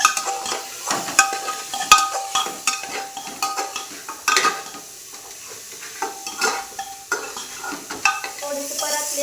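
Stirring and sautéing in a pan after salt has been added, with a soft sizzle under repeated scraping and clinking strokes of a spoon against the pan, steady and close with no talk.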